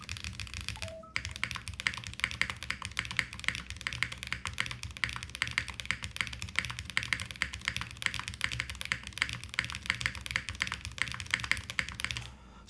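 Typing on a Zoom98 mechanical keyboard, a dense, fast, steady stream of close clacky keystrokes with a low hum underneath, all without talk.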